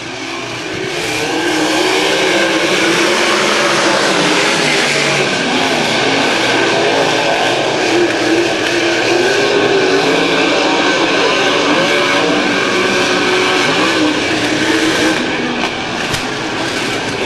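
Race cars roar at full throttle as a heat race starts at ClydeWood Memorial, a loud, steady wall of engine noise with no break, close and continuous throughout.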